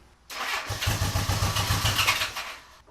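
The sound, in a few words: 1975 Honda Goldwing 1000cc motorcycle engine starting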